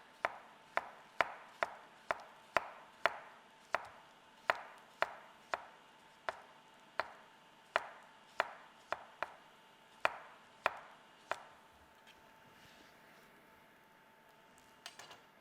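A knife slices cucumbers thinly on a cutting board, about twenty crisp, evenly spaced chops coming close and clear, then stopping, with no talk over them.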